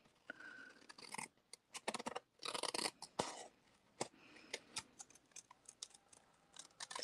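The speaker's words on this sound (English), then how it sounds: "you can see along here just to snip along the edges" Scissors snip along the edges of a paper envelope in a stamping craft session. The crisp, close, quiet cuts come in quick irregular bursts with short pauses between them.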